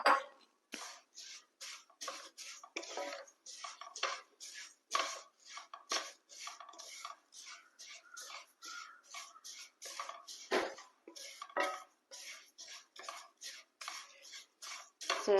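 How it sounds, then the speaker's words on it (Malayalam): Vermicelli fries in butter in a pan as a spoon or spatula stirs and scrapes it, giving a steady run of close, crisp clinks and rustles with no talking. "സേമിയ ഇതിലേക്കിട്ട് നന്നായി ഒന്ന് വറുത്തെടുക്കണം."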